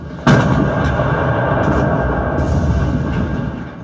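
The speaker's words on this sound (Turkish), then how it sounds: "cephenin karşı tarafından obüs sesleri de gelmeye başladı." A single loud howitzer boom cracks out in a 1915 Gallipoli trench reenactment at a museum, followed by a long rolling rumble that slowly fades, with faint distant thuds behind.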